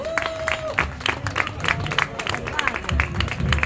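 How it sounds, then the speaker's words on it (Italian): Audience applause for a performer at an evening charity dance show, a steady mass of clapping mixed with crowd hubbub and a brief held tone at the start, moderately loud throughout. "Un applauso a Gino"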